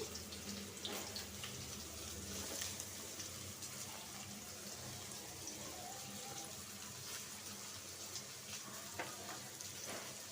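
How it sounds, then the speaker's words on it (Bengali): Onions and sliced green chillies sizzling in hot oil for a rohu fish curry with flat beans, a steady, moderate crackle that continues evenly without pause, with no talking over it. "তেলটা গরম হয়ে গেছে পেঁয়াজ দিয়ে দিলাম কাঁচামরিচ ফালি"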